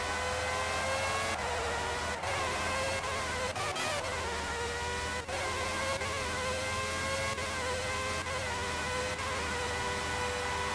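A Formula One race car engine in the video game F1 97 screams at high revs and climbs repeatedly, with abrupt breaks as it shifts up through the gears. It is loud and continuous, with no talking.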